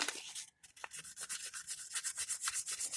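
Hand sanding a carburetor mating surface with 400 grit sandpaper to prepare it for a new gasket: steady, close rhythmic rasping strokes with a short pause near the start, no talk.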